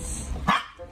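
One short, sharp bark from a dog indoors rings out mid-clip, brief and fairly close, over a low background hum.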